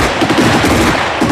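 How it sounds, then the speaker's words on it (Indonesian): A German soldier in a Stalingrad battle film opens fire on an enemy hiding spot: a loud, dense burst of gunfire fills the whole moment without pause. "salah satu prajurit Jerman yang bernama Muller menembak ke arah persembunyian musuh"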